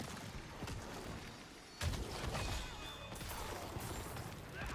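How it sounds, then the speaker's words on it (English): Black River corpse explosions in the video game Diablo 4: dense, continuous crackling blasts and crunching impacts, with a louder burst near the middle, loud and constant throughout with no talking. "one Black River explosion, everything just dies"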